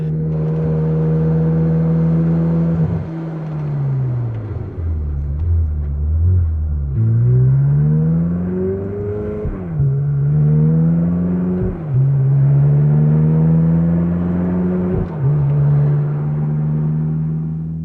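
A Ferrari F430 lookalike cruising calmly around 3,000 rpm gives a steady, loud engine drone with a low rumble, its pitch dropping sharply at several gear shifts and climbing again in smooth pulls.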